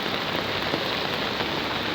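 Heavy rain pouring onto streets and surfaces outside a shop, a dense, constant hiss of drops that stays steady throughout.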